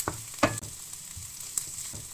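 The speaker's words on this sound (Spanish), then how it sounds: "Añade la cebolla a una sartén con aceite caliente" Chopped onion dropped into a frying pan of hot oil, a bright burst of sizzling followed by a steady crackle and a few clinks of stirring, close and alone.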